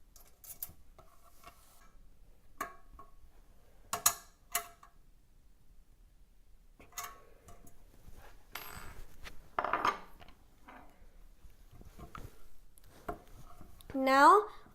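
Small metal hex nuts being fitted during assembly of a JPL open source rover body, heard as sparse, close clicks and light metallic taps spread across quiet pauses, with a brief squeaky scrape near the end.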